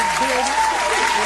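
Audience applause breaking out for a guest arriving on a hip-hop interview show, a short steady burst of clapping with voices mixed in.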